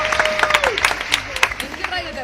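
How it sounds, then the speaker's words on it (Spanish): A small group in a radio studio clapping to welcome a guest, irregular close claps mixed with cheering voices and people talking over them. "Le damos la bienvenida a Lila Andrea Monasterios con un fuerte aplauso."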